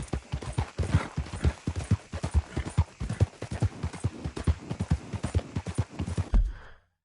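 Horse hooves clip-clop in a quick, steady rhythm of close, distinct thuds that carry on for several seconds and then stop abruptly.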